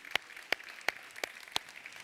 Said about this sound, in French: on a le droit de l'applaudir.